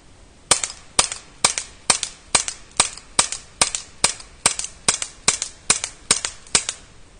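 An airsoft replica gun fires during a shooting test, about sixteen sharp, loud cracks in a fast, fairly even rhythm, each ending in a short snap, with no voices.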